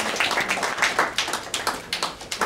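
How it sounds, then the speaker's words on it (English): Audience applause for a featured poet at a talk, a small crowd clapping unevenly in scattered bursts, fairly close and moderately loud with no talk over it. "So if everybody could give a warm round of applause for Gyasi Ross."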